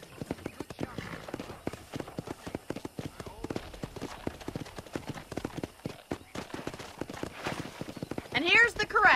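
Steady clip-clop of hooves at a ranch corral, with a horse whinnying near the end, all in a game-like setting from Red Dead Redemption.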